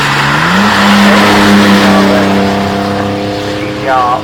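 A Nissan four-door saloon accelerates up the Shelsley Walsh hill climb at the Gumball 3000 2024 event, its engine note rising smoothly through the gears in a loud, close pass, with a voice talking over it.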